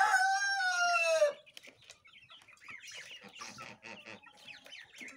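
A rooster crows loudly and close in a yard, then chickens cluck and chirp in a busy scattered chorus as the birds roam about.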